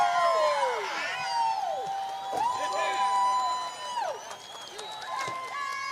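A crowd in victory lane at Orange County Speedway cheers, whoops and whistles. Rising and falling shouts overlap with some applause and continue steadily throughout.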